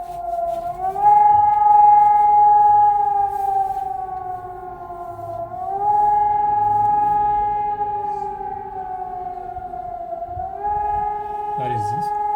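A civil defense warning siren in Germany wails loudly from outdoors, its pitch rising and falling in slow sweeping cycles, with a voice speaking briefly near the end.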